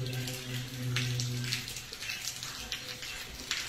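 Steady rain pours at Wat Nong Yao, a Thai temple, with a dense, even hiss of drops on surfaces and a low hum running underneath throughout.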